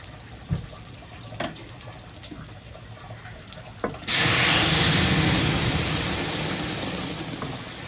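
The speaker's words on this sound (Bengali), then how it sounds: "ডালটা কড়াতে ঢেলে দেবো" Soybean dal poured into a wok makes a loud, steady watery rush that begins abruptly partway through, follows a few faint clinks, and fades slightly toward the end.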